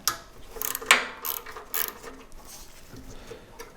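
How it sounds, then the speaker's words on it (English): Wrench loosening a single bolt on a snowblower auger and drive belt assembly, a few quick close ratcheting clicks and metallic taps in short bursts, no talking. "we can loosen this single bolt down here"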